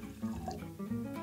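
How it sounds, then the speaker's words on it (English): Water poured into an Erlenmeyer flask, a short close splashing and gurgling pour heard on its own. "I have here an Erlenmeyer flask that I'm going to pour some water into."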